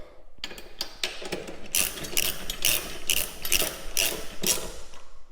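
A ratchet wrench clicks in fast, repeated bursts while tightening the leg bolts of a pinball machine. The metallic ratcheting comes in several close, strong strokes with short pauses between them, and there is no talk.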